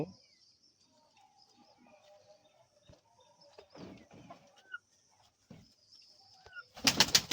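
Fancy pigeons in a rooftop loft cooing softly in scattered low calls, with faint chirps around them, and a sudden loud rustling burst near the end.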